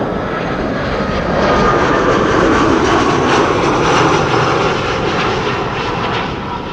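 On a windy day an airliner roars loudly as it arrives at Amsterdam Schiphol Airport, a broad steady engine rumble that swells and fades slightly over several seconds.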